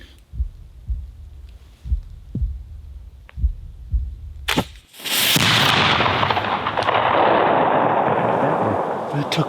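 A flintlock rifle fires outdoors during a hunt. Several soft low thumps come first, then a sharp, loud crack opens into a sustained broad roar that fills the rest of the shot.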